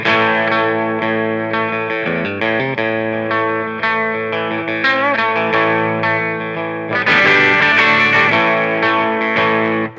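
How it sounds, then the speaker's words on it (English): A Teran T-N3 Slim electric guitar played through its bridge pickup rings out in sustained, thick chords and note runs, treated with distortion and chorus, loud and continuous for the whole stretch with a brighter, denser strum near the end. "When I get to the bridge pickup, you'll hear it's much fatter and it kind of feels slower."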